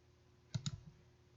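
Two crisp mouse clicks come in quick succession, close and quiet, while working in Maya software, followed by a faint softer tap against near silence.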